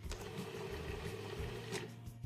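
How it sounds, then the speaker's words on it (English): A food processor pulses butter, flour and water into pie dough, a steady loud motor whir running continuously with rough churning texture and no talk. "Then add 3 tablespoons of water and pulse the dough until it starts to come together."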